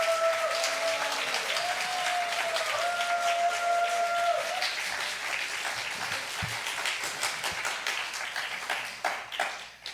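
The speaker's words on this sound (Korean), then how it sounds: "우리 오 목사님 여러분 박수 한번 더 해주시고" Congregation at a university chapel service applauds a pastor, dense steady clapping from a large crowd that thins toward the end, with faint musical tones audible underneath early on.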